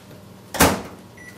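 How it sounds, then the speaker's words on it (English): A microwave oven with about a third cup of filtered water inside gives a close, loud thump as its door shuts, followed by a short, faint electronic beep. "So we go to the microwave"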